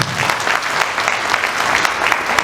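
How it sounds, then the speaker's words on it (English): Applause breaks out again from the audience at a speech event, a brief burst of steady, close crowd clapping without any talking. "Clap again."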